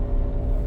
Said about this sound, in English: your truck is loud. Louder than mine.